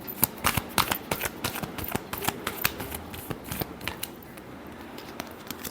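Tarot cards riffled and shuffled in quick, crisp bursts of flicking and snapping, close and fairly loud, with no talking.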